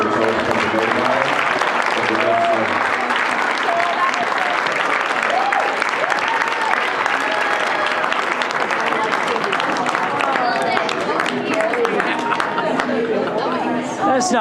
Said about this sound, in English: a huge round of applause for the toast